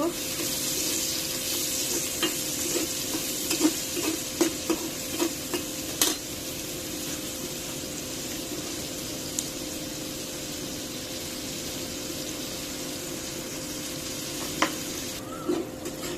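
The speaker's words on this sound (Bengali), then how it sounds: "পেঁয়াজটা ভাজা হয়ে গেছে" Onions with green chilies and salt frying in a pan: soft, continuous sizzling with occasional light stirring clicks, heard up close at a low, even level.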